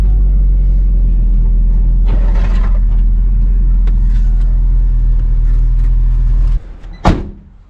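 A two-door right-hand-drive Honda Integra rumbles along in a junkyard, a heavy low engine drone that cuts off near the end, followed by a sharp clunk like a door.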